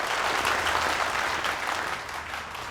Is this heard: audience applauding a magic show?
yes